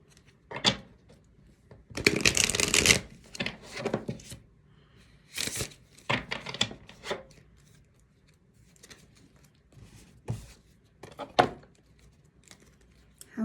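Love Oracle cards shuffled by hand in bursts of riffling and rustling, loudest in a long run early on, then shorter scattered flicks and snaps close to the listener, with faint background noise between.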